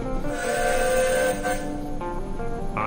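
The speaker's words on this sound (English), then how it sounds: "I can hear a train." Steam train rumbling past in the western saloon game Saloon Simulator, a steady rolling rail noise with whistle-like tones, fairly loud and continuous throughout.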